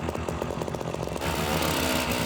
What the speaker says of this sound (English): And then the auger begins acting up.